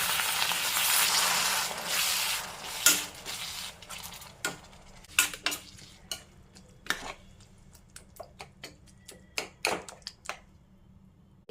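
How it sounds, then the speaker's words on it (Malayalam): Boiling water is poured into a tomato gravy for paneer masala, giving a loud rushing sizzle at first. A steady series of spoon taps and scrapes against the pan follows as the gravy is stirred. "ആവശ്യമുള്ള വെള്ളം ഒഴിച്ചു കൊടുത്തു."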